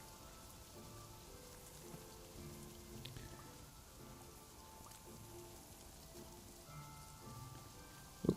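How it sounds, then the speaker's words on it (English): Steady Minecraft rain falls as a soft, continuous hiss of drops on surfaces, low and even throughout with no talking over it. "It's raining."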